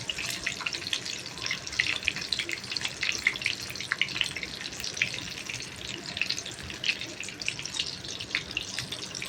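Packaged vada deep-frying in a small kadhai make a continuous crackling, bubbling sizzle full of fine pops, steady and moderately quiet, with no speech.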